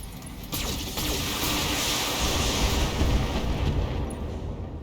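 Medium lasers firing from a mech in the BattleTech game, a sustained loud roaring blast with crackling bursts that swells after a brief lead-in and rumbles on steadily.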